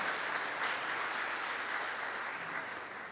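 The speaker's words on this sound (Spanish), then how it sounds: "Dale un fuerte aplauso al Señor" A church congregation claps together in loud, sustained applause that fills the room evenly for a few seconds, with no pauses.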